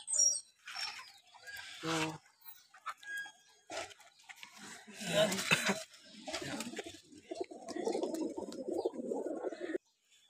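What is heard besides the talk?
racing pigeons cooing and flapping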